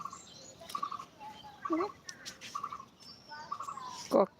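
A person imitating a clucking chicken, giving short, high, bird-like clucks and squawks in scattered bursts, followed by a sharp louder cry at the end, amid casual chatter.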